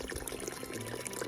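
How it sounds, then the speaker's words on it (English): Small mountain spring water trickling and splashing out of rock along an Appalachian Trail path near Clingmans Dome, a faint, steady bubbling flow heard alone. "Water coming right out of the rock."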